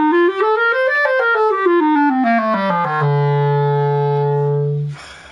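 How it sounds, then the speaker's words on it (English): A single melodic instrument plays an A natural minor scale two octaves up and back down in steady even notes, ending on a long sustained low tone before stopping. "I play two octaves up and two octaves down in A natural minor"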